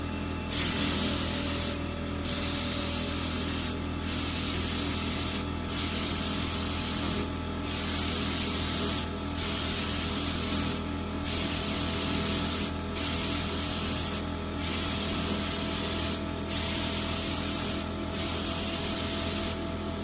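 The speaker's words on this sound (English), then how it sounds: "These cheap little Harbor Freight paint sprayers work pretty good." An inexpensive Harbor Freight paint sprayer coats a steel building in a loud, continuous hiss, broken into bursts about every two seconds by brief pauses as the trigger is released, with no talking.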